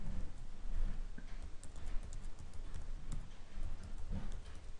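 Quiet, irregular clicking of keys on a computer keyboard as an email address is typed, faint and close over a low background hum.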